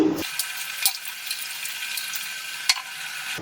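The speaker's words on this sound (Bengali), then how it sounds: "এবার আমি এই জলের মধ্যে দিয়ে দিচ্ছি চাল" Soaked, washed rice is poured into a pot of water for homemade chicken biryani, making a soft watery rush with a couple of small splashes and drips. The sound is fairly quiet and close, with no voices.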